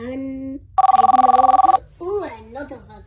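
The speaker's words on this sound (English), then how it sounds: "A notification." A phone notification ringtone sounds as a rapid, loud burst of trilling bell pulses lasting about a second, with voices talking just before and after it.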